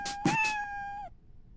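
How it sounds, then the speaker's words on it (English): The Scratch cat meow sound effect, a single clear, bright meow lasting about a second, with a short rising-then-falling tone, alone and close. "I want it to meow, so start the meow sound"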